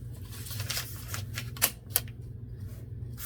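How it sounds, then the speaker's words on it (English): Paper being cut along a ruler during a steampunk-themed paper craft project, giving a run of soft, close scraping and slicing strokes with two sharp clicks partway through, over a steady low hum. "I'm just going to take a ruler and"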